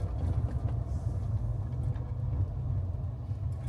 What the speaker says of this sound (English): Why do my car sound like that?